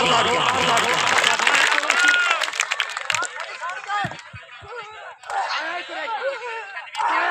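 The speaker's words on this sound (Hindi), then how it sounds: "अगर तबीयत खुश है दुआ खिलाड़ी का वास्ते जोरदार तालियां" A crowd claps and cheers at an outdoor kabaddi fair in Shorkot, a loud, dense mass of applause mixed with shouting, continuing under an announcer's amplified voice.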